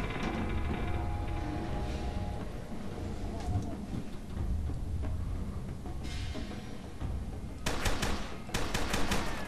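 Shots ring out in the horror shooter FEAR 2: Project Origin, a low rumbling game soundscape with scattered reports and a dense burst of rapid gunfire near the end.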